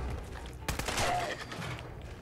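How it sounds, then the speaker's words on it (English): Gunfire in the video game Fallout 4, a sudden sharp shot followed by a short burst of noisy rattle and echo, moderately loud against a low game background. "Shot his leg out and he didn't die"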